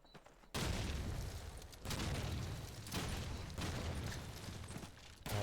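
A grenade explodes in the Call of Duty 2 video game during a competitive match. Several loud, booming blasts land about a second apart, each followed by a rumbling tail, with no pause between them.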